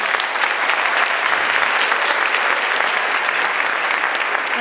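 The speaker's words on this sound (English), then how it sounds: "Can we give them another round of applause?" An audience applauds the four flute players at a spring middle school band concert, with steady, dense clapping filling the whole stretch at an even level.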